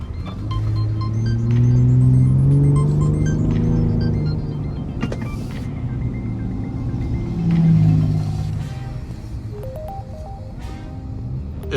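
A 2022 Ford F-150 Raptor drives along a road: a deep, steady engine drone with a low rumble that swells as it accelerates, heard from the cabin with tire and road noise underneath.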